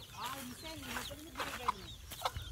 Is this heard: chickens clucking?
yes